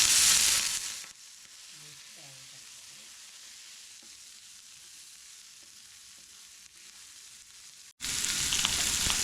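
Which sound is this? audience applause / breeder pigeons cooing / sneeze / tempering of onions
tempering of onions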